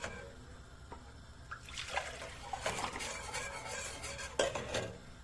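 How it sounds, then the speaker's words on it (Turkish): A spoon stirs yogurt into soup in a pot, with soft scraping and gentle sloshing that comes and goes, close and fairly quiet. "yoğurdumuzu şöyle karıştırarak içerisine boşaltıyoruz birlikte sürekli karıştırıyoruz"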